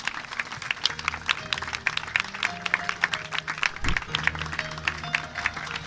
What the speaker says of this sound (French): Et je pense qu'elles méritent des applaudissements pour tout à l'heure.